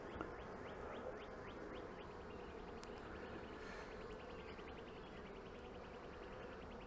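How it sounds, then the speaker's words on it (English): Honey bees moving over grafted queen cells on a hive top bar, a faint continuous buzzing hum with light rustling, quiet and close, no talking. "I can maybe blow on them and get the bees to move a little bit."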